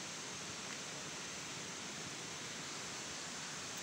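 A river flowing below a nighttime walking path, heard as a constant, even broadband rush of water with no distinct splashes, fairly faint and steady throughout, no talking.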